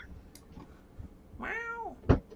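A house cat wanting to be let out gives one clear, drawn-out meow in the middle, close by, surrounded by faint household knocks and a sharp thump just after.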